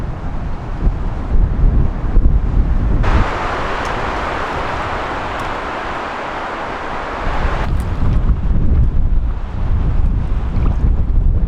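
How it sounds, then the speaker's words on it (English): Strong wind sweeps through a forest campsite in the West Spanish Forest on a canoe trip. It makes a loud, continuous roar with heavy gusts buffeting the microphone and a rushing surge near the middle. No voices are heard. "the wind picked up big time"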